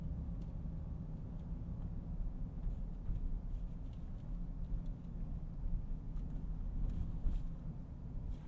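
The V6 engine of a 2021 GMC Acadia AT4 heard from inside while driving, a low steady rumble with road noise at moderate level, no speech.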